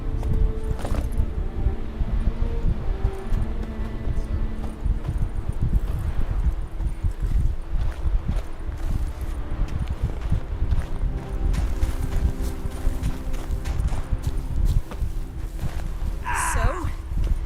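Hooves of Geralt's horse Roach pounding along during a ride in The Witcher 3, a dense continuous gallop under loud ambient game sound, with a brief rising whinny near the end.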